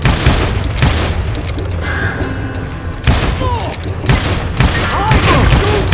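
Loud, close gunshots and heavy booming impacts from a Call of Juarez: Gunslinger shootout, coming in bursts with short pauses between them, and a shouting voice in between.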